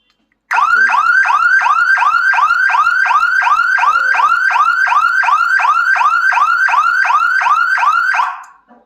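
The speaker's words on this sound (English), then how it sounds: "it starts the alarm, it triggers the alarm" A loud electronic alarm siren from an Arduino-built remote-controlled alarm wails alone in rapid repeating upward sweeps, steady for several seconds before cutting off.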